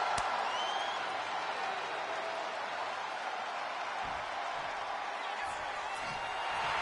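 A hot arena crowd in the WWE 2K26 wrestling game roars steadily throughout, a dense continuous wash of cheering and applause with faint overlapping voices.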